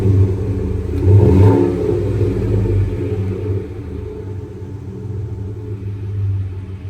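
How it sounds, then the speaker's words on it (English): A 2007–2018 Chevrolet Silverado 1500 with a stainless catback exhaust cranks and fires up, a loud low rumble swelling briefly before settling into a steady, fairly quiet idle. "Here's the first fire up. It has a nice tone to it."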